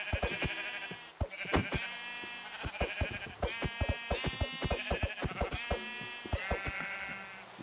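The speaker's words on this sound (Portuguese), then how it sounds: "Eu quero uma ovelha branca." Sheep in a video game bleat repeatedly, several overlapping calls close by and loud over about eight seconds, mixed with sharp clicks and thumps from gameplay.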